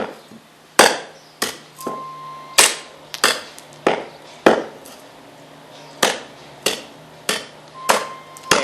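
A heavy kukri blade chops into wood with about a dozen sharp, loud, close impacts at an irregular but steady pace, each a crisp crack followed by a brief ring and short decay.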